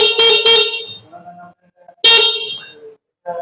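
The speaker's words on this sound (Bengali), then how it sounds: "দুই পাশে দুইটি হর্নের সুইচ রয়েছে যার জন্য আপনি সুন্দরভাবে হর্ন চালাতে পারবেন" Two short honks of a small electric horn on an electric bike, the Journey Night, sound close by, followed by a pause and another longer honk.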